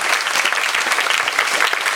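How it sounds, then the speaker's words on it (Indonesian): Lively, dense applause from an audience at a church gathering, a loud continuous roar of clapping that fills the whole moment with no talking. "Tepuk tangan yang meriah buat Tuhan Yesus."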